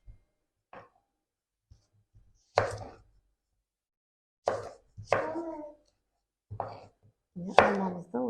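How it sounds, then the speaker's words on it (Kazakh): A knife cuts an apple into pieces for a mojito: a handful of separate, crisp strikes against a board, spaced irregularly with silence between, close and fairly quiet. "Алмамызды осылай бөліктерге бөліп алатын боламыз."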